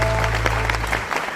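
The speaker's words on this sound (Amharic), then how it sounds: "እዚህ ተመልካቹም በጣም ነው የሚወድ፣ እያጨበጨበ ነው ለአንተ" Studio audience applauding on an Ethiopian TV talk show, a short burst of steady clapping over a low hum.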